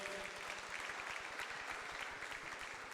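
A church congregation claps in praise during a Bible study service, a quiet but steady patter of many hands for about three seconds with no talk over it.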